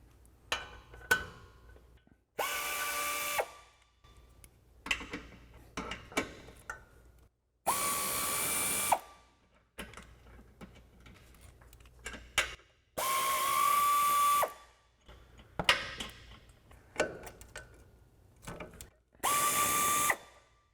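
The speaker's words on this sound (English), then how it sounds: "we're going to take a 12mm socket, we're going to remove the brake line bracket at our upper control arm" A 12mm socket ratchet backs brake line bracket bolts off a Toyota Tundra frame and knuckle, sounding in several bursts of rapid clicking, each a second or two long, separated by quiet pauses, close and alone.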